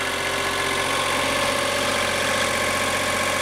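A generator set aboard a 1978 Morton & Hersloff 36 flybridge sedan boat runs steadily at idle with the hatch up, a constant mechanical hum with a dense vibrating drone and no breaks throughout.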